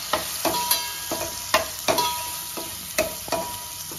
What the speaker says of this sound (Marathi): कश्मीरी मिरची पावडर 1 चमचा, थोडं परतून घ्या.